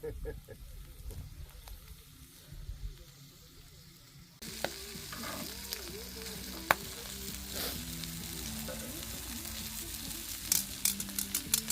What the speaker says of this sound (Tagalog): Aussie barbecue. Aussie barbecue daw.